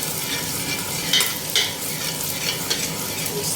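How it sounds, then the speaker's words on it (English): Green pepper stirred and fried in a pan for fried rice, a steady close sizzle with occasional scraping clinks of the spatula against the pan, no voices. "Stir it for some time, just like we did with the onions."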